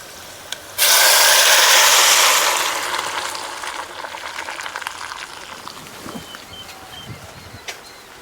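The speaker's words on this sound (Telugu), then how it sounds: "మనం తాలింపు వేస్తుంటేనే అసలు చారు చూసారు ఎలా తెరులుతుందో అలా తెరలాలి" Hot tempering of crushed shallots, dried red chillies and curry leaves sizzles loudly as it is poured into village-style Telugu dal rasam, a sudden burst of frying hiss that slowly settles into a softer bubbling crackle.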